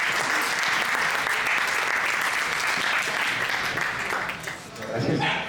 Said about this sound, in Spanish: Con un aplauso vamos a cederle la palabra a Leopoldo Mendívil López.